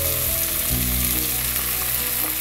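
Dried loitta fish fries in a pan with onions over medium heat, giving a dense, continuous sizzle that stays steady and close for the whole stretch, with no voices.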